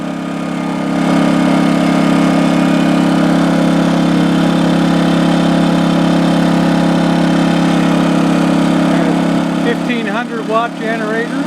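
A 1600-watt portable generator engine runs steadily at a constant drone during break-in, loud and close throughout, with a brief change in tone near the end.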